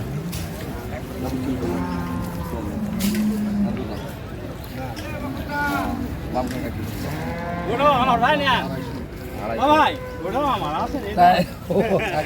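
Dairy cows at a busy cattle market in Dinajpur, several lowing moos of varying pitch close by, mixed with lively crowd chatter and people talking.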